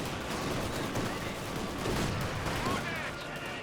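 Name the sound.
rifle gunfire in the video game Company of Heroes 2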